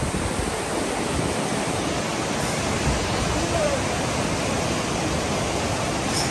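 Strong river current rushes beneath a bridge, a loud, dense, continuous roar of water throughout.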